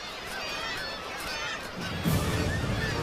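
Black-legged kittiwakes calling at their coastal breeding cliffs in March, a dense chorus of overlapping nasal cries that grows louder and harsher toward the end.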